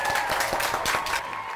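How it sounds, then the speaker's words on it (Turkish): Studio audience applauding a guest on a cooking show, a dense, steady burst of clapping from a crowd that fades slightly at the end. "Bir Ali Bey'e bir alkış."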